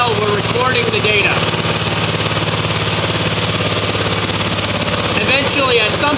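A small diesel engine runs on a benchtop dynamometer with a steady, close, rhythmic chugging under load, staying loud and even throughout while a voice talks over it.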